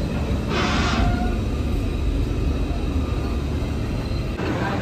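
Haldibari Intercity Express pulling into Rampurhat Junction: a loud, steady low rumble of rolling wheels and carriages runs throughout, with a brief hiss early on and no voices.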